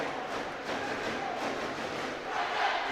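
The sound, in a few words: crowd cheering at schools basketball final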